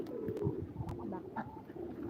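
Pigeons coo softly among chickens and ducks, a few low murmuring coos close by in a quiet yard.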